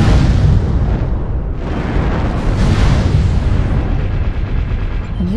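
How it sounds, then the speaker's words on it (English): Artillery strike explosions, a loud continuous rumbling barrage of blasts and booms filling the whole stretch with no speech. "Artillery strike online."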